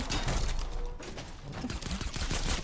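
Rapid bursts of gunfire from a gold SCAR assault rifle in the Fortnite battle royale video game, loud and dense throughout with overlapping shots and no talk.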